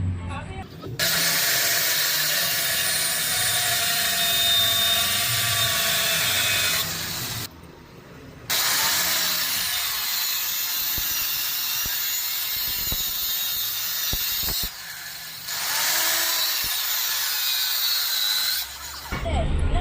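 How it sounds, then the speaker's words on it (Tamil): A power tool cuts through an oil-filled bicycle front fork shock absorber in a scrap shop, making a loud, harsh, continuous grinding whine. It runs in long bursts separated by short pauses, with scattered clanks between cuts. "நம்ம இதை வந்து கட் பண்ணி தான் எடுக்க போகிறோம்."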